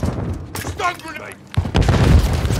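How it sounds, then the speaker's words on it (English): A stun grenade detonates in Call of Duty Modern Warfare 3 with a loud, close, broadband burst that trails into a rumble, following a shouted voice callout. "Stun grenade!"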